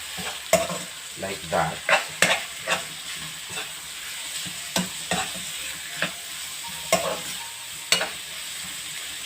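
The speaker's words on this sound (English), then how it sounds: "So now pork is now there in the pan. We'll just have to basically saute it" Ground pork sautés in a pan under a constant sizzle, punctuated by repeated sharp scraping and tapping strokes of a spatula at an uneven pace, with a brief voice heard once.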